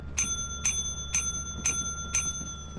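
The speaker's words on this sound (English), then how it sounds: "I'm not gonna ring that bell anymore." A small ringing bell in the video game Lethal Company is struck five times at an even pace, each a bright metallic ding with a lingering tone over a low steady hum, with no talking.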